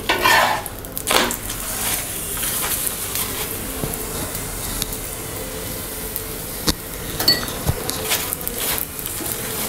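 Aloo paratha fries in oil on a pan with a steady soft sizzle, broken by scattered clinks and scrapes of a utensil against the pan.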